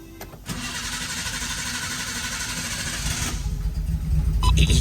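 A Nissan Gloria cranks briefly and catches, its engine then settling into a steady idle that rises slightly near the end, with a faint beeping at the close.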